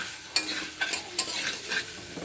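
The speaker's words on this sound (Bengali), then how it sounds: "আলুটাও দিয়ে দিলাম, আলুটাও দিয়ে কষিয়ে নেব।" Potatoes sautéing in a pan for a fish-head and Malabar spinach curry, giving a steady sizzle with several sharp scraping stirs of a spatula, close and moderately loud, with no talking.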